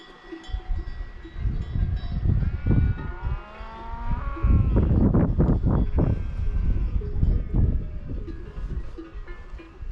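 A herd of sheep bleats on a Pyrenean mountain trail near the Lac d'Arizes below the Pic du Midi de Bigorre. Several overlapping bleats, some close and loud, sound among jangling cowbells in the open air.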